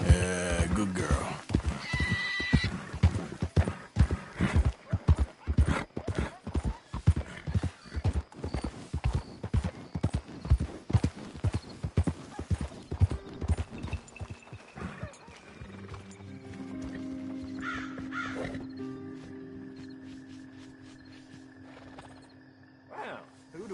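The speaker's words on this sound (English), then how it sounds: "That's a fine steed." Horse hooves clip-clop at a steady trot in Red Dead Redemption 2, loud and close, then slow and stop as the horse whinnies and a voice speaks over in-game music.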